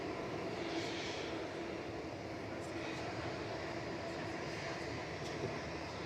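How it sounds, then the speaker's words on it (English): A Gulf Air Boeing 787-9 Dreamliner at Manchester Airport makes a moderate, continuous engine rumble and hiss with faint background noise, and no one speaks over it. "Gulf Air, flight 4, heading back to Bahrain, A9C-FD, 787-9 Dreamliner"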